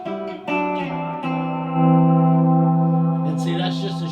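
A guitar played through a reverb effect pedal on a praise and worship pedal board, with sustained chords ringing out and decaying into a washy, echoing tail, fairly loud and with no talking.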